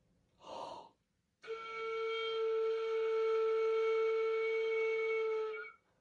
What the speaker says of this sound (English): we are going to blow a steady air stream and produce a flute head joint sound.